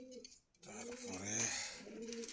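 Caged pigeons coo at a Dhaka bird market, a low, rounded cooing rising near and clear over a busy background with a short quiet gap early on.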